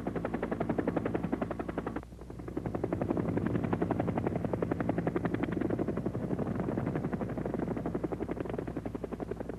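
Steady rapid thumping of helicopter rotor blades, loud and close, with a constant engine whine underneath and a brief dip early on.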